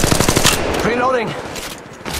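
Loud, rapid automatic gunfire from a machine gun in the mobile battle royale game Apex Legends Mobile, a fast rattling burst up front followed by whooshing game effects and a brief game voice line.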